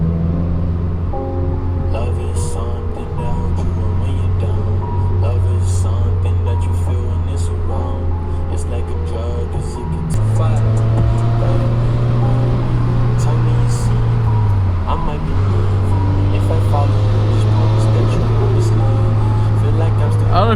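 A Subaru WRX turbo engine runs with a steady, loud drone at idle, its pitch stepping up slightly partway through, with a voice present in the background.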